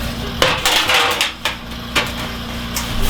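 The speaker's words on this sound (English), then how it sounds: "Now we can take this clamp off." A metal clamp comes off a weathervane workpiece in a workshop with sharp metallic clanks and knocks, several distinct impacts over a steady low hum, loud and close, with no voices.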